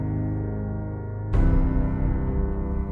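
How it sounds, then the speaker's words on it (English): Theme music motif from the Fallout video game: sustained harmonic tones that shift into a fuller, brighter chord partway through, playing alone without voices. "What you're hearing right now is the theme to Fallout."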